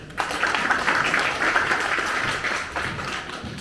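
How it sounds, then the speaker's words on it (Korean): An audience at a Korean metalworkers' union law school lecture claps to welcome a lawyer, a continuous patter of many hands that starts abruptly, holds for about three seconds and tapers off, fairly close. "힘차게 박수로 맞아주십시오."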